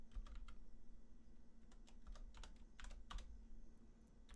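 Keys clatter on a computer keyboard as a SQL create table command is typed into a code editor, quick bursts of clicks with short pauses, fairly quiet over a steady low hum, no voices.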